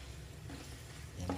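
Chicken and broccoli are stirred in a hot pan, with a steady close sizzle and soft scraping of the utensil throughout a short stretch, with no talking.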